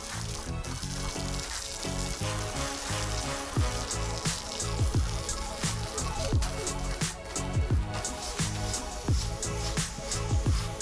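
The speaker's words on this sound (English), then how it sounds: "I'm going to start by cleaning it with water to get rid of any dust" Water steadily sprays and splashes over reclaimed wood deck boards being rinsed of dust before a Shou Sugi Ban finish, a dense continuous hiss with trickling and dripping throughout and no voices.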